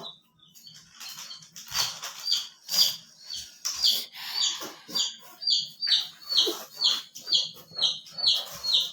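A hen clucks in a quick, regular series of short calls that grows steadier and repeats about twice a second, close and fairly loud, with light rustling and scratching in the background.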